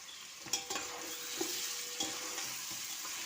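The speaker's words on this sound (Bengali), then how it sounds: "তেল ছেড়ে দিয়েছে, এবার এতে আমি দিলাম একটু কেশরি মেথি" Kesar methi (fenugreek) sizzles in hot oil on a veg biryani base, a dense, even hiss close by with a few soft clicks of stirring.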